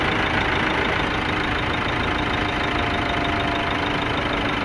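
A car engine runs steadily at idle, a loud, close, continuous rumble with a faint knocking texture. The hum stays even throughout, with no voices.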